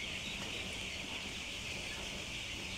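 A faint, continuous chorus of thousands of young broiler chickens in a three-room poultry shed in Malaysia, their overlapping chirps and clucks blending into a distant, high, steady murmur with no talk.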